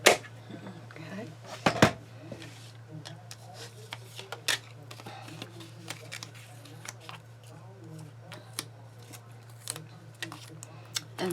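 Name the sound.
cutting out a paper gnome piece for a card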